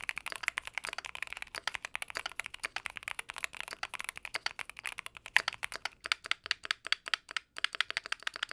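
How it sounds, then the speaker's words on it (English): Fast, steady clacking keystrokes on a Hall effect mechanical keyboard with a harsh, brittle tone and a spacebar needing lube, with sharper, more spaced strikes toward the end. "This thing sounds like I'm typing on a pile of broken eggshells, and that spacebar definitely needs some more lube."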